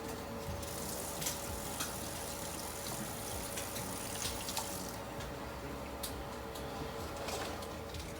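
Tap water runs steadily into a kitchen sink while an onion is rinsed for ramen, a continuous soft hiss with a few faint clinks.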